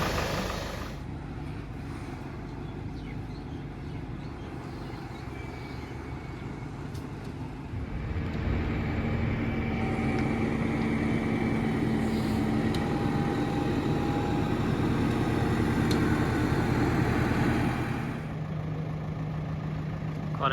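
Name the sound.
boat lift machine moving boat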